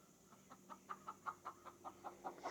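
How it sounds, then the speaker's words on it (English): Chicken clucking in a rhythmic series of about a dozen short, mid-pitched calls, fairly close and moderately loud over a low steady hum, building slightly toward the end. "We'll just have to work through the chicken cackling."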